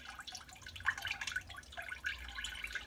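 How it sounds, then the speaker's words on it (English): Homebrewed Grand Bohemian Pilsner beer being strained, giving a soft, steady trickle and drip of liquid with a few brighter splashes, close and fairly quiet, with no talking. "So I'm on my last little bit straining of my Grand Pilsner."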